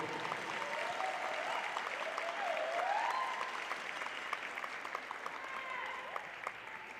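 A crowd in a gym claps steadily for a women's college basketball all-star award winner, a dense, even wash of applause with faint cheering voices sliding above it, fading slightly toward the end.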